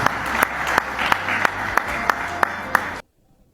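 Applause for 207 children who received medical treatment, a steady wash of clapping with a few sharp claps standing out, lasting about three seconds and then cutting off to silence.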